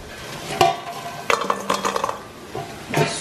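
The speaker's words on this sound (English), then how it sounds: "Can you hear the sizzle?" Hot crispy browned food with parmesan, garlic and parsley sizzles in a pan, with a few sharp clinks and scrapes of utensils against cookware, close and fairly quiet with no talking.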